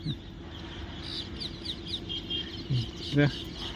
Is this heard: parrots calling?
yes